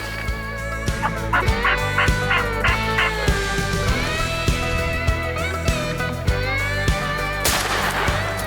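Wild turkeys gobble repeatedly outdoors on a farm over a steady low hum, with several sharp bangs and bursts scattered throughout.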